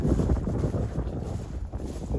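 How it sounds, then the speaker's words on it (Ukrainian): Strong wind buffets the microphone outdoors at a horse pasture with a continuous low roar and rumble, steady throughout with no voices. "але вітер дує, може буде задувати"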